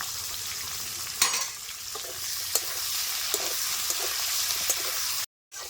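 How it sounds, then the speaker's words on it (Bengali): Vegetables fry in a pan with turmeric and a little salt: a continuous sizzle, broken by several sharp clicks of a spatula stirring against the metal. "এখন আমি সবজিগুলি ভেজে নেব।"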